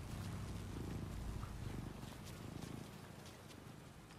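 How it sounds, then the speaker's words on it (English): Cat purring in the video game Alan Wake 2, a soft, steady rumbling purr throughout, quiet and close with no speech. "I hear a cat."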